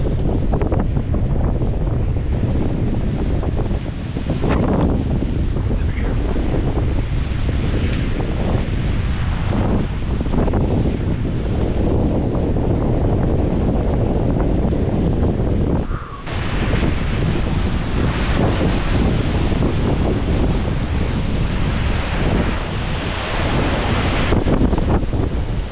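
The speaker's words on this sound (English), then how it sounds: "Very windy in the Smoky Mountains here today." Strong gusty wind roaring through the Smoky Mountains, loud and continuous with surging gusts buffeting the microphone, no talk heard.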